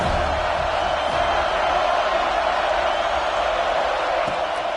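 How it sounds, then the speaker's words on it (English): A packed football stadium crowd roars at the start of a college game, a dense, steady wall of cheering that stays loud and unbroken throughout. "This crowd ready to make its presence known."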